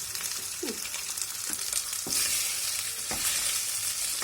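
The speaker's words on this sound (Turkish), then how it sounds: "Kızarması için beklemeniz gerekiyor." Close, steady sizzling of chicken frying in a pan, with occasional clicks and stirring scrapes over the crackle.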